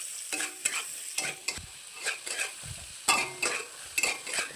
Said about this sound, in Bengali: এটাকে এখন হালকা পরিমাণে ভেজে নেব।